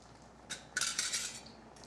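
A spoon clinks and scrapes around a pot while garlic powder is stirred into yakitori sauce, a few bright metallic strokes bunched together, close and alone without speech.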